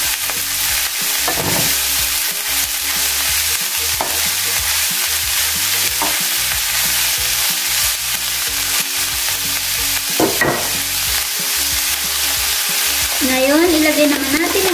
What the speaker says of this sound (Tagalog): Let's mix again.